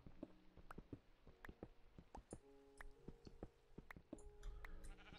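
Minecraft sheep bleating in a rainy underground scene, several short bleats scattered among footstep-like clicks and block sounds, moderately near and alone with no talk.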